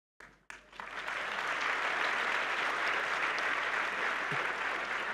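After two sharp knocks, applause swells from a conference audience at a French sovereignty round-table on leaving the EU, continuous and even, heard from a moderate distance in a large room.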